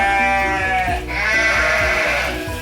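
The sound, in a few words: lambs bleating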